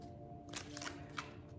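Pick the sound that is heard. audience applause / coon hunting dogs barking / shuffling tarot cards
shuffling tarot cards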